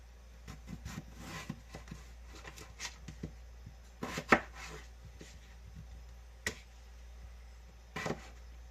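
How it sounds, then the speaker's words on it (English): A knife slices through a potato on a cutting board in a series of quiet, irregular cuts, with a few sharper taps standing out against near silence. "Slice, slice, slice, slice."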